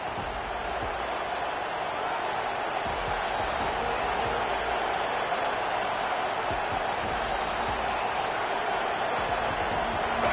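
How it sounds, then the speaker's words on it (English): A stadium crowd at the Iron Bowl college football game sends up a steady, loud roar that holds broadband and unbroken through the clip, with no clear individual voices standing out. "This crowd ready to make its presence known"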